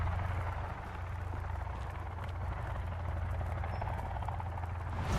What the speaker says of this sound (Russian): Выйдя из данной пещеры, вы услышите полет вертолета, намекающий на окончание игры.